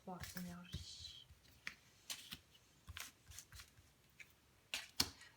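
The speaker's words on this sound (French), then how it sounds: "J'ai prébrassé les cartes et voilà, on va les sélectionner maintenant." Tarot cards are handled and drawn close up, with a series of papery slides, flicks and taps spread across the moment, and a brief voice near the start.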